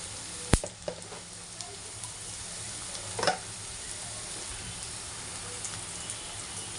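Sliced onion fries in hot oil in a pan after turmeric and chili powder go in, giving a steady, even sizzle with a few sharp stirring clicks and scrapes, close and fairly quiet.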